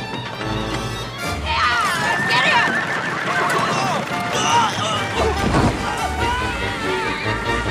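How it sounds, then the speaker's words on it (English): Horses neigh and whinny loudly amid clattering hooves and crashing impacts in a small-town chase scene from a comedy film, with shouting voices mixed in. "Get the horses!"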